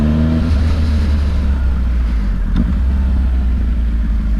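A 2019 Triumph Speed Triple 1050 RS on an Oregon ride produces a loud, deep engine drone with heavy low rumble, a brief throttle shift early on, then steady close-up roar mixed with wind.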